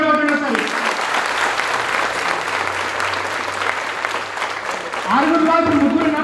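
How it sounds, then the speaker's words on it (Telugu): An audience at a community event claps together in a loud, dense burst of applause lasting several seconds, with voices audible at the start and end. "అందరు చప్పట్లు కొట్టండి"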